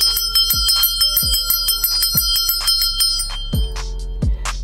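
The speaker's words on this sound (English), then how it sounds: "I'm going to ring the bell" A small bell is struck repeatedly in a ritual to clear negative energy, its bright metallic rings overlapping and sustaining, with a pair of rapid strikes near the end.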